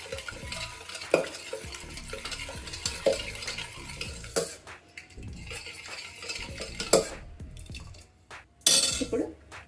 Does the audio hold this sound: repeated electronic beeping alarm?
no